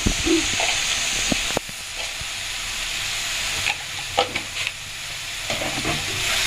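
A spice paste for bhola fish curry sautés with salt in a pan, a steady hissing sizzle with occasional spoon scrapes and taps, close by and without any talking.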